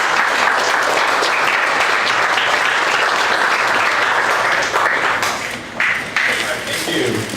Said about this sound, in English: please stand and give Chris a round of applause